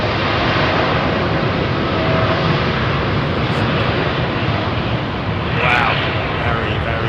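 A Boeing 747 departs runway 27R at London Heathrow, a loud, continuous broadband engine roar close by and steady throughout.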